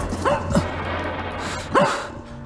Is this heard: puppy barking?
yes